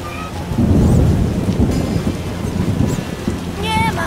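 Rain and rolling thunder in The Witcher video game, a loud low rumble under a steady hiss of rainfall, with a few faint tonal game sounds drifting over it.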